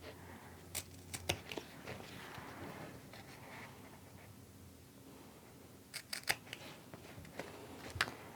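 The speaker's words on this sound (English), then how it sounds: "Go ahead and cut the rest of the way down one side." Fabric being cut with scissors while making a handmade wallet, corners clipped near a V-shaped point; quiet, close snips and fabric rustle with bursts of sharper clipping near the start and again toward the end.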